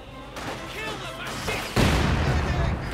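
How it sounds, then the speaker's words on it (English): Mortar fire in the real-time strategy game Company of Heroes 2, a heavy booming blast bursting in under someone commentator's voice, followed by sustained rumbling explosion noise. "Quick mortar there against the Grenadiers."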